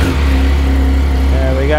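A 2010 Triumph Street Triple 675 motorcycle fires up and settles into a loud, steady engine drone close by, with the pitch rising briefly near the end.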